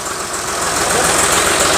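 A 65-horsepower three-cylinder tractor engine idles close by with a steady, low, slightly knocking rumble, with no voices.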